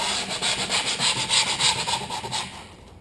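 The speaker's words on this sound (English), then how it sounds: "Give a sand along the edge." Folded piece of skateboard griptape rubbed back and forth along the board's edge, a steady close rhythmic scratchy sanding lasting a few seconds.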